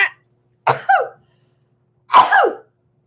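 Two sneezes in quick succession after a short intake of breath, loud and close, with a short pause between them.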